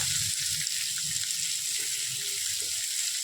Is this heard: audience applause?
no